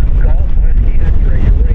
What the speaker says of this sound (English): The wind has been cooperating.